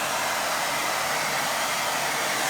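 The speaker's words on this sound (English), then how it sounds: "Might be able to blow some colours around with air dryer blow them across." Hair dryer blowing watercolour paint across paper, a loud, steady, close airflow roar that does not vary and has nothing else heard over it.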